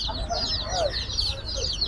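Day-old brown cock chicks at a poultry market keep up a steady chorus of high peeping and soft clucks, moderately close against busy market noise.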